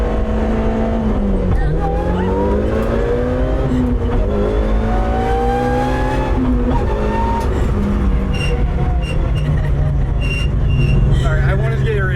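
A 400whp Mitsubishi Evo accelerates hard from inside the car. The engine note is loud and close, rising and shifting through gears, with a steady rumble underneath.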